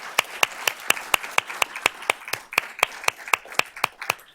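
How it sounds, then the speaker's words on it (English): Sparse applause rises at a school district board of trustees meeting. Evenly spaced, crisp claps repeat in a steady rhythm at fairly low volume, with no talk over them. "Let's give her a round of applause."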